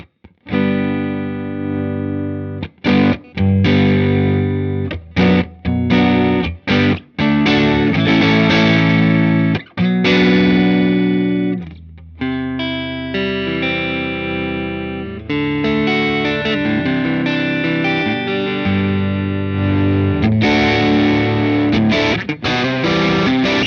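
An electric guitar played through the Strymon Iridium amp and cabinet simulation rings out in distorted chords and riffs with short pauses between phrases, loud and close throughout.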